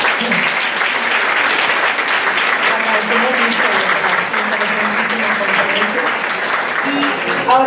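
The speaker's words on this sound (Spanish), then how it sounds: "vamos a darle un fuerte aplauso a la doctora" A conference audience gives a lecturer a loud, sustained round of applause, dense clapping filling the whole stretch with brief voices mixed in near the end.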